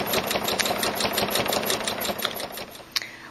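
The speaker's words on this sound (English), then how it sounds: "And I hold my two threads on the left and I start machine quilting." A sewing machine stitches a quilted piece close by with a rapid, steady needle patter and a soft motor hum, slowing with a final click near the end, and no one speaks.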